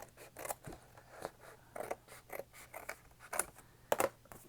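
Scissors snip through the card-stock front of a greeting card, a string of short, crisp cuts at an uneven rhythm, close and fairly quiet, with no voices.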